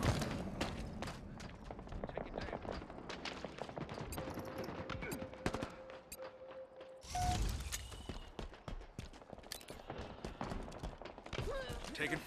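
Gunfire in Halo Infinite, a steady stream of rapid, fairly soft shots and mechanical clatter running throughout, with a heavier thump partway through.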